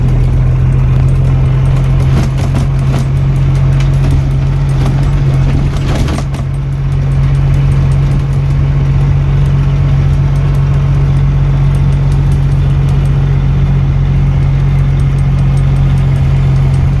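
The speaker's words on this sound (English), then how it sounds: "get the gist of how this truck runs and drives now." A 1991 Peterbilt truck's engine runs steadily throughout with a strong low hum, close and continuous, with a brief louder swell near the middle.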